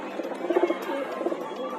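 Pigeons cooing at a racing pigeon loft, a few soft, low coos repeating close by amid faint background chatter and rustling in a short burst.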